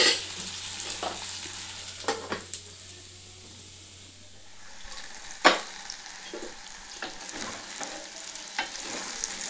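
Okra and onion fry in a pan, a soft continuous sizzle with occasional scraping stirs and one sharp clink, heard close up, with no talking.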